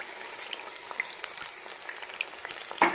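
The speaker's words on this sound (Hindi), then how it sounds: "और मैं इस प्याज को फ्राई कर लूँगा" Onions fry in hot oil in a kadai, giving a soft, continuous crackling sizzle with scattered small pops, steady and fairly quiet, with no voices.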